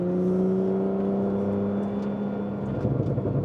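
Porsche 991.2 Carrera turbo engine tuned to 700 HP, a steady droning hum with a low whir building faintly, heard from inside the car with no talk.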